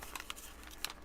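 A paper bag is folded and creased by hand for a journal, giving a few close, quick crinkles and crisp paper snaps over quiet background.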